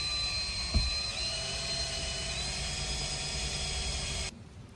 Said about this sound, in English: drilling through these with a little bigger hole and just ever so slightly putting them up through